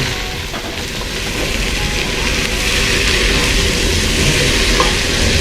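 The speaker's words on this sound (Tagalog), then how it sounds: "halo na natin ang ating main ingredients, ang mga laman loob na sangkap ng ating papaitan" Beef innards for papaitan, a Filipino bitter stew, sizzle steadily in a hot pan while being sautéed and stirred, a dense continuous frying hiss with occasional utensil scrapes, close and loud throughout.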